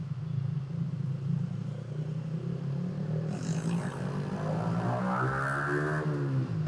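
A Yamaha MT15 motorcycle rides through Bangkok streets with a steady engine drone. Partway through, the engine revs up as the rider accelerates, and the pitch keeps rising toward the end of the run.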